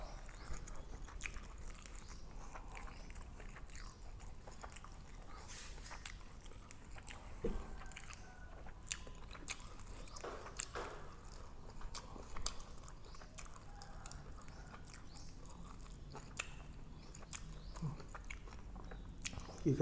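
Close, quiet chewing and biting of large pieces of grilled pork neck in a spicy Thai salad, soft crunchy bites repeating irregularly with no talk.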